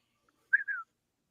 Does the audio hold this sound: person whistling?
yes